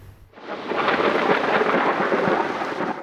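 A thunderstorm brings heavy monsoon rain in Khyber Pakhtunkhwa, Pakistan. A deep, loud roll of thunder swells in and merges with a steady, dense downpour that holds throughout.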